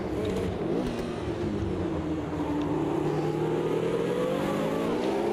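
The engine of a Brabham BT26A race car in Automobilista 2 drones steadily and loudly throughout, its pitch rising and falling as the car changes gear, with no speech over it.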